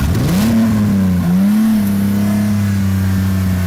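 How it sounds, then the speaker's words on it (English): A V-configuration engine in a Lamborghini replica fires up and revs, its loud, close growl rising in pitch, dipping briefly, then settling into a steady, throbbing idle with no one speaking. "Man, that sound when a motor comes alive right behind your back."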